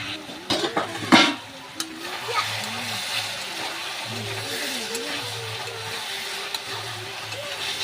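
Vegetables fry in a pan in a home kitchen, a steady close sizzle that runs the whole time. Some clatter of stirring comes early, and faint background voices sit under the noise.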